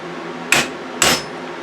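Two sharp metallic blows of a half-inch drive ratchet used as a hammer on a Remington Rustler RM2510 pull-start mower part, spaced half a second apart, close and loud over a faint hum.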